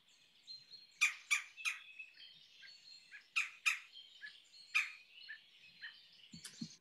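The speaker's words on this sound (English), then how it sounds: "a burst of, like a burst of a trill. And you'll notice it's called the red-bellied woodpecker" A red-bellied woodpecker gives bursts of rolling trill, several sharp, fairly loud churring notes in uneven clusters over a fainter background of other birdsong outdoors.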